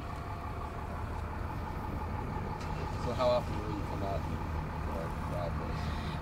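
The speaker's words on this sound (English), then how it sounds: "this is meant to capture just the noise that's coming off of the roadway" Steady traffic noise rolls off the 520 Bridge roadway in July 2007, a constant low drone with no distinct vehicles standing out, and someone speaks briefly over it.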